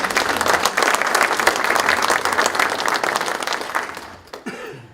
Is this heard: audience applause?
yes